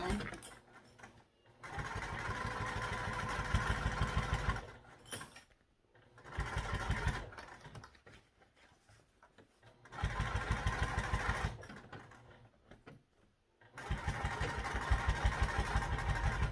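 A sewing machine stitches through thick backpack fabric at the heavy bottom seams with their gusset pieces, running in several loud bursts of steady rapid stitching separated by short pauses.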